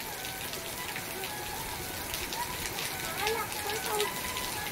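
Steady rain patters down in a dense hiss on farmland, with voices talking intermittently over it.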